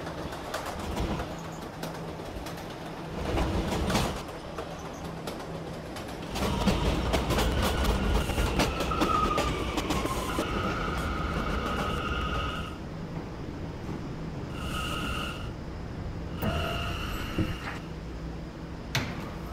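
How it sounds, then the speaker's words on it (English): An R179 E subway train on the Fifth Avenue Lines rumbles along, a long steady roar with brake squeals and rising tones, then settles with steady electric hums and chimes, pigeons cooing faintly in the background. "This is a Halson terminal bound E train."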